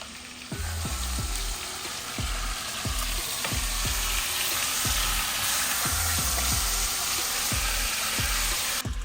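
Chicken sears over high heat for biryani, a loud, steady sizzle of frying with a regular series of scraping stirs layered on top, close by, with no talking.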